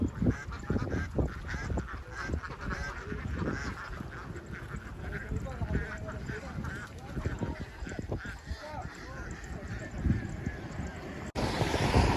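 A flock of ducks honks and quacks continuously at a distance in an open park near San Luis, Pampanga, under steady wind noise, with someone talking over the calls.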